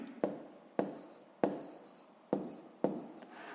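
Pen writing on paper during a fifth-grade math exercise, five distinct scratchy strokes at a steady rhythm, close and quiet with no talking.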